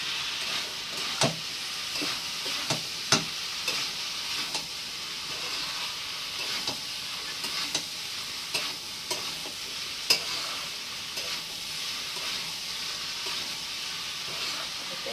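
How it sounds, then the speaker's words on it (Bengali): Steady sizzling from a wok as spices are stir-fried, with repeated spatula scrapes and clinks at an uneven rhythm. "মশলা সমস্ত কষিয়ে নেবো।"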